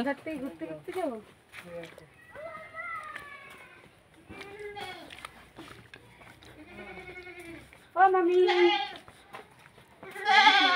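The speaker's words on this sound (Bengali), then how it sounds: "ছাগল গরুই তো রাখছে শুধু" Goats bleating repeatedly at close range at a rural home, loud wavering cries in bursts, with people talking in between.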